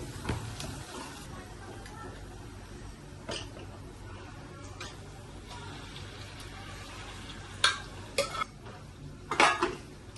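Chicken biryani masala being stirred in a cooking pot, with steady soft scraping and a few sharper metallic clinks of the spoon against the pot near the end, under low background noise.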